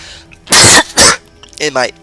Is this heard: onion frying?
no